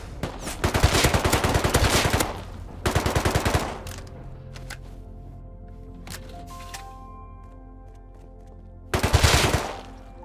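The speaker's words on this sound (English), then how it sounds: "An AK? What is that?" Loud bursts of automatic AK rifle fire in the survival game Rust, three rapid volleys separated by quieter gaps with faint background game sounds.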